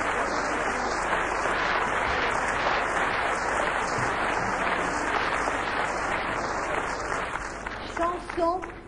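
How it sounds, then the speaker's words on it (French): Audience applause follows a song at the 1959 Eurovision Song Contest, a steady, hissy wash of clapping from an old broadcast recording that thins out near the end as a voice begins. "vous avez raison d'applaudir"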